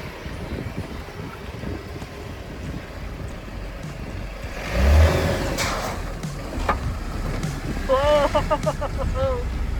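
A Jeep Wrangler with four-wheel drive engaged crawls off-road at a camp Jeep event, its engine a steady low rumble under wind buffeting the microphone, with a louder surge midway and people talking near the end.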